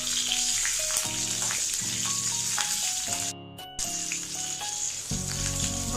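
Steady oil sizzle and crackle of green chillies and curry leaves frying, close and continuous, with a brief dip partway and low stirring clatter beneath.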